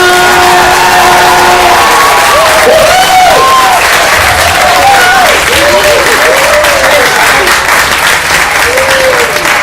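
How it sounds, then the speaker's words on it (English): A large, loud crowd applauds and cheers for Olympic gold medalist ice skater Brian Boitano, with continuous dense clapping, whoops and shouts, and a voice speaking over the start. "Big round of applause for Boitano!"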